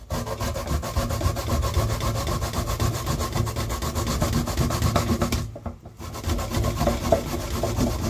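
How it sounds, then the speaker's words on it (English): A plantain being grated by hand for Jamaican dumplings gives a steady, close rasping scrape that runs continuously, with a brief pause near the end before the grating resumes. "You can see the grate of the plantain"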